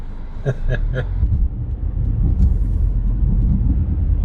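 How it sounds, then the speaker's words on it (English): Early-morning road traffic at about 5:20, a steady low rumble of cars passing nearby with engine drone throughout and a few brief sharper noises near the start. "I don't know where all this traffic came from at 5:20 in the morning"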